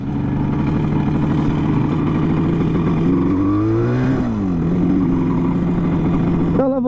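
The engine of a 1974 Yamaha RD 350 two-stroke motorcycle idles with an uneven, popping beat, its pitch dipping and rising once as the idle is adjusted, then a brief rev near the end.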